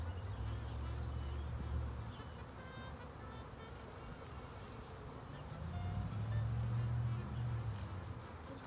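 A dense, steady hum of many honey bees buzzing close by as a new colony is set up, swelling and fading slightly in loudness.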